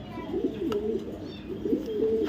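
Racing pigeons coo in a steady, low, throaty rolling pattern, several soft burbling calls repeating close by with no talk.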